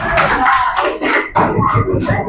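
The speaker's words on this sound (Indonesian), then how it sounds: "Oke, tepuk tangan," A classroom of students claps hands in an Indonesian school lesson, several loud, close bursts of clapping separated by brief gaps.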